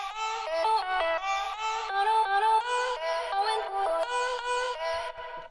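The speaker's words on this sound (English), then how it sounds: "The vocal chops, which sound like this." Chopped vocal snippets form a bright, pitched melody of short syllable-like notes, stuttering and rhythmic, with no other instruments underneath.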